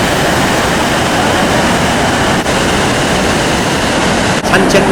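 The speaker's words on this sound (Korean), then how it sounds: "브라질 대지에 울려 퍼지는 이 가수의 힘찬 폭포 소리" Iguazu Falls in Brazil roars as a dense, steady wall of rushing water, loud and unbroken from start to finish.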